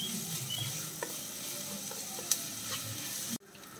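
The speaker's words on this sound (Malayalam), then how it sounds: "ഇനി ഇത് ഗോൾഡൻ ബ്രൗൺ ആവുന്നത് വരെ നന്നായിട്ടൊന്ന് വഴറ്റിയെടുക്കണം" Sliced onions sautéing toward golden brown for fish biryani, a soft steady sizzle with occasional light clicks of a spoon, cutting off abruptly near the end.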